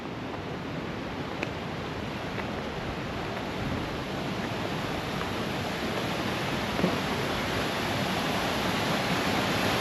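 The waterfall at Paradise Falls in the BigHorn Mountains roars as a steady, broad rush of falling water, unbroken and close throughout.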